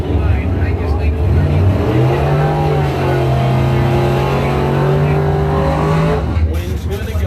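A Chevrolet drag racing car roars loudly down the strip, its engine note climbing steadily as it accelerates, with continuous heavy engine noise and a trackside announcer talking over it.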